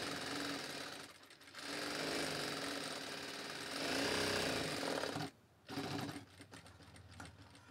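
Sewing machine stitching a saree blouse, a loud continuous mechanical whir that runs steadily with a brief pause near the end before resuming, close and alone.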